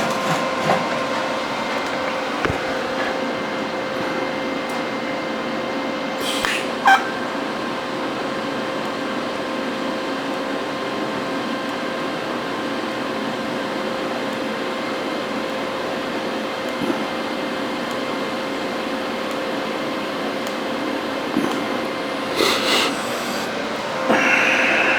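TIG welding a metal flag base at around 100 amps: a steady, even electrical buzz and hiss that holds for the whole stretch, with only a few brief clicks and taps, and no talking.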